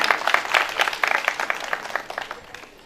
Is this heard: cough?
no